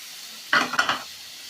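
Kasuri methi and tomato stirred into frying onion in a pan, giving a short burst of sizzling and spoon scraping that lasts about half a second, then quiet.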